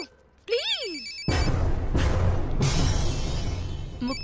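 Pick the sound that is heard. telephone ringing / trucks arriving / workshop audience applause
telephone ringing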